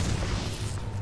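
A video game explosion, a dense, booming burst of low rumble that fills the whole moment loudly with no voices over it.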